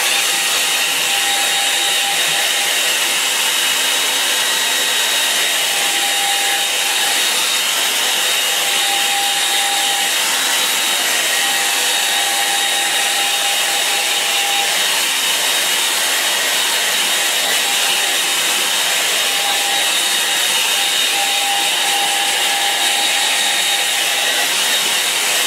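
A hair dryer blows loud and close for the whole stretch, a steady rushing whoosh with a faint whine, used to dry a watercolor painting.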